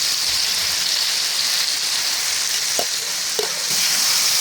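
Chopped chayote frying in a pan for pancit habhab, a steady loud sizzle with a few light stirring clinks, no talk.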